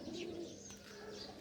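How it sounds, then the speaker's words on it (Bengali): Pigeons cooing in a low, soft, continuous murmur, close by with faint higher twitters above a steady background hum. "কবুতরগুলোকে আজকে উড়াবো ভাবছি"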